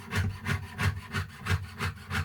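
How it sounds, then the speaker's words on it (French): A fine jeweler's saw rasps back and forth in a steady rhythm while cutting jewelry, about six even strokes, close and fairly loud with no voices. "je vais pouvoir venir glisser la lame extrêmement fine de ma scie"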